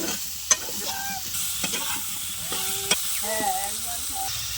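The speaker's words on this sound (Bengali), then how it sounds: "বেগুনটাও একটু ভাজা হয়ে এসেছে" Eggplant and onion fry in a pan with a steady crackling sizzle, punctuated by sharp clacks of a utensil against the pan and a few scraping stirs, close and lively.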